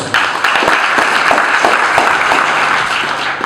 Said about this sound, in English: Let's all give her a huge round of applause